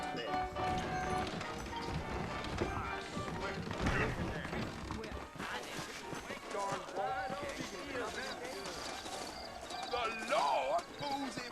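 Horse hooves clip-clop steadily under ongoing conversation in the video game Red Dead Redemption, with occasional snorts and creaking tack in the background.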